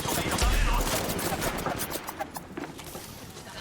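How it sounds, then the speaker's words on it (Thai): Rapid gunfire rattles in the mobile battle royale game Apex Legends Mobile, a dense run of close shots that starts heavy and thins into scattered pops over busy game noise. "ฉันกำลังยิงต่อสู้อยู่"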